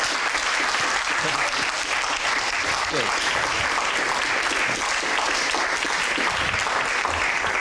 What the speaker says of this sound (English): do you want to give applause?